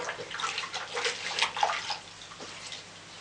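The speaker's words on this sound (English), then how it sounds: "then you put another towel in the warm water." A towel is lowered into a basin of warm water for local hydrotherapy, giving soft sloshing and splashing swirls that rise and fade over a few seconds, close and fairly quiet, with no talking.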